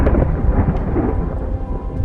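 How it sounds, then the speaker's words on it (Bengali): Thunderstorm with a deep, continuous rolling rumble of thunder over heavy rain, loud and close, with no voices. "অল্প সময়ের মধ্যেই এক প্রচণ্ড ঝড় উঠল, মেঘ গর্জন করতে লাগল,"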